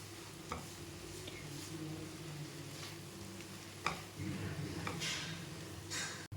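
Egg kurma masala frying and being stirred in a pan, a steady close sizzle with a few sharp scraping strokes of the spoon against the metal spaced through it, no talk over it.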